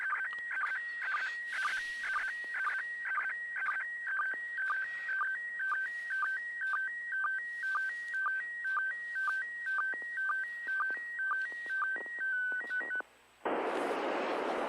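A warbling SSTV image transmission from the International Space Station received on radio: steady alternating tones in a rapid repeating pattern, loud and continuous, ending abruptly in a burst of static hiss.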